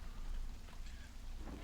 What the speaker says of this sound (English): Just calm, rainy, right?